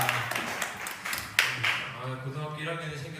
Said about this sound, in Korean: 우리 다시 한번 박수.